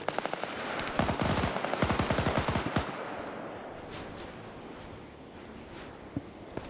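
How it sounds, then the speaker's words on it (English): Machine gun fire rattles in a PvP military shooter game, long rapid bursts of sharp cracks at moderate distance, fading into wind-like ambient noise with a lone shot near the end and no talking. "Got bullets flying literally kilometers out."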